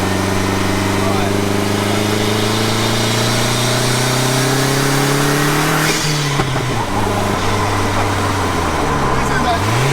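A 1.8T 400bhp lightweight car engine pulling in third gear, a loud, droning in-car roar climbing steadily in pitch, then a brief lift and a drop in revs, with a voice talking over it.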